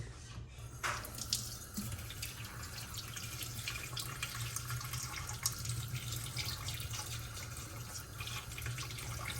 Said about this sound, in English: now we got to fill this thing with water